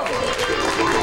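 Audience applause for the keyboard player Homero Valencia at a 1996 variety show, a steady wash of clapping and crowd noise throughout.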